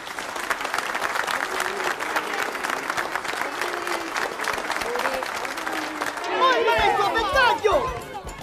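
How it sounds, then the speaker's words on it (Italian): Wedding guests applaud the newlyweds after the ceremony, a sustained crowd of clapping hands lasting several seconds, with voices and chatter rising over it toward the end. "facciamo un bel applauso agli sposi?"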